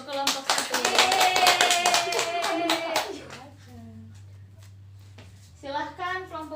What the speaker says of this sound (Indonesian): Beri tepuk tangan dong untuk kelompok 1.